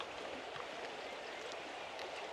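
A river flows gently along a valley floor, a soft, distant, steady rush of water with faint gurgles and no voices.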